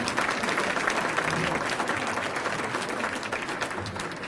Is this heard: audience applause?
yes